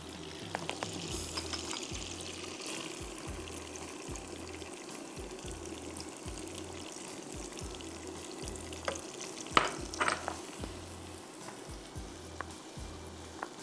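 Chopped onions frying in a pan of butter and oil, a steady close sizzle with bursts of crackling and occasional stirring scrapes, loud and continuous with no talk over it.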